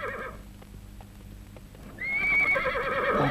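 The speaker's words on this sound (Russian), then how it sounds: "Без всадника конь мчит во вражеский стан." A riderless horse lets out a loud, drawn-out whinny after a short stretch of faint hoofbeats, the neigh rising sharply and ringing to the end.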